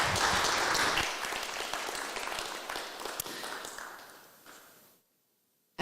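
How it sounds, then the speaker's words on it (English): Audience applause after a talk at the Wasa Future Festival 2022, a dense, loud burst of clapping that gradually thins and fades over about five seconds, ending in near silence. "A big applause."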